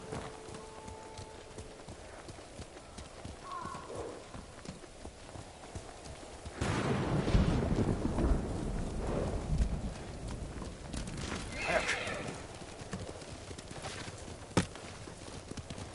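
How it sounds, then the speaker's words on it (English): A horse in Ghost of Tsushima moves along a rural path, hooves clip-clopping in a steady rhythm that grows louder partway through, with birds chirping faintly in the background. "Horse!"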